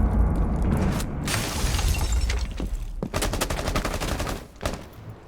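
Gunfire in a first-person shooter, with several bursts of sharp automatic shots and scattered single cracks, loud and close over steady game noise, from players believed to be cheating.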